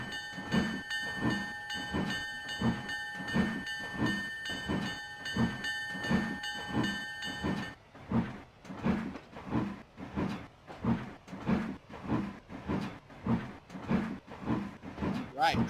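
A train rides the rails with a rhythmic clatter of wheels over rail joints, while a loud bell rings steadily through the first half and then stops, leaving the repeating rumble alone.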